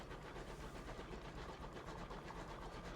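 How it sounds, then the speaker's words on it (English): A small train in the video game Sunless Skies rumbles along with a dense, even mechanical chugging and rattling, steady and moderately quiet throughout with no voices. "So our little train chugs along."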